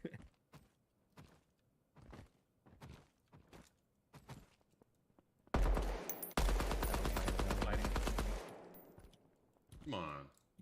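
Submachine gun fire in the shooter game Deadrop: scattered single shots and short bursts, then a dense, loud sustained burst lasting a few seconds, with a voice talking at times.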